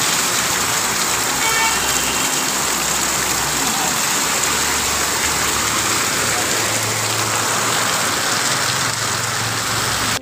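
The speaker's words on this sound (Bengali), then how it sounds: "হঠাৎ করে বৃষ্টিটা নেমে আসলো, কেউ বুঝতে পারেনি যে এত জোরে বৃষ্টি হবে।" A sudden, hard downpour drums on a street in a continuous loud roar of falling water, with splashing runoff and faint passing traffic and a distant horn buried beneath it.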